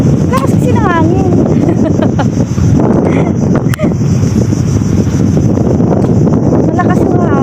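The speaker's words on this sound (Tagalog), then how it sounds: "Lakas kasi ng hangin." Strong wind at a seaside beach buffets the microphone in a continuous loud roar with gusty rumble, while someone talks over it.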